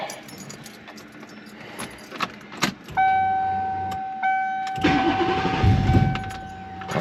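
A car's keys jangle close by, then a starter whirs and the engine catches and settles into a rough idle inside the car.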